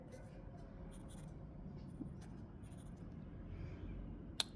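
Pencil drawing lines on paper for a stacking-table sketch, a faint steady scratching over low room hum, with one sharp click near the end.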